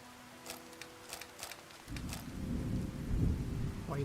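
Steady rain hisses throughout in Fallout: New Vegas while sharp crackles of thunder strike early, then a deep rumbling roll swells and lingers.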